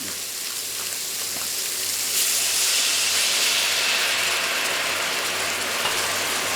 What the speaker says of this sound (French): Et je vais déglacer au vin blanc.